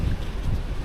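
Wind blowing outdoors on a street in Fort Worth, a steady low rumble of gusts buffeting the microphone throughout, loud and close with no talk.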